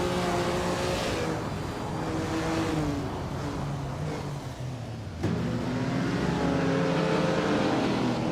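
Race cars in a racing video game, led by a 1957 Ferrari 250 Testarossa at Grand Valley Speedway, roar steadily with rising and shifting engine pitch throughout, loud and continuous with a brief dip before surging again.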